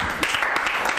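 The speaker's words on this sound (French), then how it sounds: "Les applaudissements sont arrivés naturellement." Audience applause after a theatre-style monologue, a dense burst of clapping heard close and fairly loud, with a few sharper hand claps standing out over the brief stretch.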